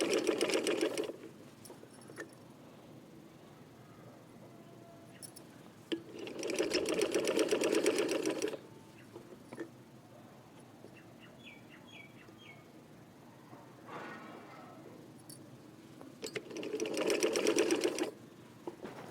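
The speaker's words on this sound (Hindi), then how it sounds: "ये आप देख रही होंगी कि मैं जिस तरह सिलाई लगा रही हूँ बिल्कुल इसकी जोड़ में सिलाई हो।" Sewing machine stitching a printed yoke, running in three loud, steady bursts of about two seconds each, with quieter pauses and faint bird chirps in the background between runs.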